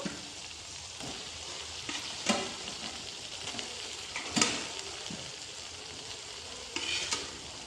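Fried potatoes get stirred into a ginger-garlic spice masala in a pan for chicken curry. A soft, steady sizzle runs throughout, broken by a few louder scraping stirs, and no one speaks.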